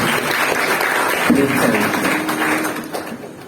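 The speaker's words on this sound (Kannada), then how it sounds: "ಅವರಿಗೊಂದು ಚಪ್ಪಾಳೆಯನ್ನ ತಟ್ಟೆ" Audience applause at a Kannada literary book event in Vijayapur, a steady broadband clatter of many hands lasting the full stretch, moderately loud with a faint voice or tone briefly above it.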